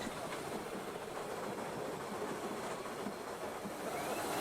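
The steam locomotive Taw Valley works hard up a bank, giving a dense continuous roar of exhaust and hiss with steady rail clatter underneath, loud and close, with no voices.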